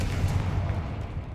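A Confringo spell blast goes off in Hogwarts Legacy, a single loud, low booming burst that rumbles briefly and fades within about a second.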